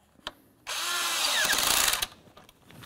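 Power tool tightening a hose clamp on an intake line at the throttle body of a Nissan Titan: a single short whirring burst of about a second and a half, close and moderately loud, with faint clicks before and after.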